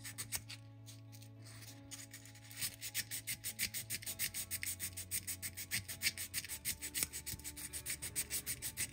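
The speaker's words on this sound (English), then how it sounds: "You're just creating that contrast by sanding around the piece like this" Hand sanding around a stamped metal cicada pendant to strip blackened marker and soot: quiet at first, then a long run of quick, even back-and-forth scrubbing strokes, close and fairly soft.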